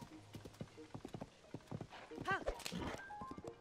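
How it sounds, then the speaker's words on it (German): Horse galloping in Zelda Tears of the Kingdom, quick rhythmic hoof beats at a near distance, followed by a short whinny, with someone talking over the hooves. "Schneller, Epona! Auf geht's!"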